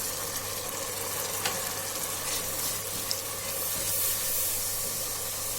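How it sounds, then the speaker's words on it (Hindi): Tomato paste and spices frying for daal mash give a continuous close-up sizzle with a soft hiss, and a couple of faint stirring knocks sit under the steady crackle. "अच्छे से मसाले को हम तकरीबन 4 से 5 मिनट तक भून लेते हैं।"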